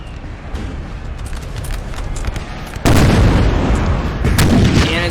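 Canister shot artillery fire tearing into a Russian line in Napoleon Total War, a steady din of booming cannon and crackling gunfire that swells into a heavy, loud barrage midway, with no talk.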